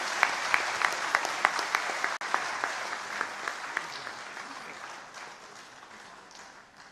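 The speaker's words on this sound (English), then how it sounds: "Kindly let us applaud our chief guest once more." An audience at a Catholic bishops' plenary assembly in East Africa claps for the chief guest, a sustained wash of applause with sharp individual claps standing out, gradually thinning and fading toward the end.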